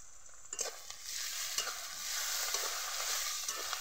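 Garlic paste hits hot oil in a pan for a taro dish, bursting into a loud, steady close sizzle with faint stirring clicks throughout, no talking.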